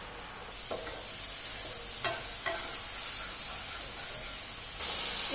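Spinach puri filling is stirred in a hot pan while the water cooks off, giving a steady soft sizzle with a few brief scrapes of the spoon, fairly close and moderate in level with no talk.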